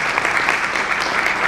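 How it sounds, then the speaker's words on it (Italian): A short burst of dense, steady clapping from an assembly audience applauding Pinuccio, continuous and fairly loud with no voices standing out. "Quindi un applauso facciamolo per Pinuccio"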